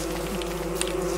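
Red bees swarming in the Don't Starve Together video game, a close, steady insect buzzing drone that holds throughout with no voices.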